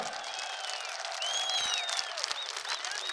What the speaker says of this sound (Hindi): और एक बार भरपूर तालियों के साथ इस्तकबाल करें शहबाज पाकिस्तान का।